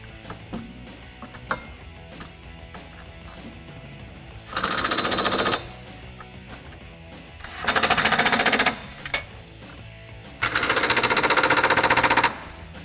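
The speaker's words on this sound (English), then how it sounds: "we can take a 12mm deep socket and just tighten down the bolts that are holding in our body mount" Power ratchet or impact tool with a 12mm deep socket tightening body mount bolts on a 2018 four-door Jeep Wrangler JL, three loud rapid rattling bursts of about a second each over quieter clicks and handling noise, close by and without talking.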